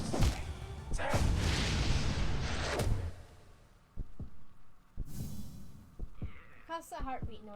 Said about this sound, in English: Constant heartbeat noise is getting annoying.